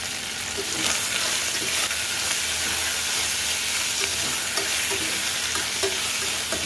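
Chopped tomatoes sizzle and fry steadily in a pan of oil for egg biryani, a dense continuous crackle with occasional stirring scrapes, close and even throughout.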